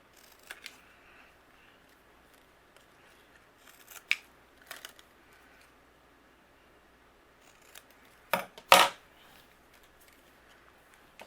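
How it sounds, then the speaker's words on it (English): A few sharp snips of scissors trimming paper for papercraft, spaced irregularly with quiet pauses between, the loudest pair near the end; close and otherwise silent. "I'm going to trim away just using my scissors."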